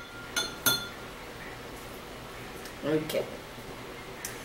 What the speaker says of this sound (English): Now I'm just stirring it up.